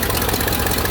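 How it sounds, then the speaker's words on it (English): Engine of a 1974 Ford F100 pickup idling on fresh gas, a steady close rumble with an even pulsing throb that fills the whole second without a break. "It's idling just fine, no issues."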